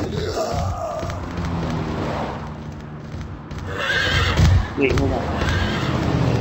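A horse in a video game neighs and whinnies loudly amid hoofbeat clip-clops and game noise, while a person talks over it.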